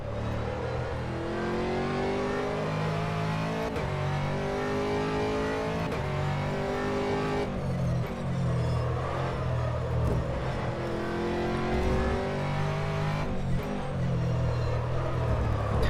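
An Aston Martin race car in a racing video game, out on track at Virginia International Raceway, its engine droning loud and steady throughout, rising and falling as it revs through the gears, with no talk over it.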